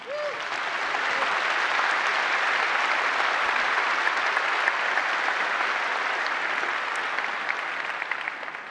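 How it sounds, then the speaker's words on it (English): Loud, sustained audience applause in a large conference keynote hall at Black Hat USA 2018, a dense, even roar of many hands clapping that swells quickly and holds strong for several seconds before easing slightly. "I want everyone to applaud these folks"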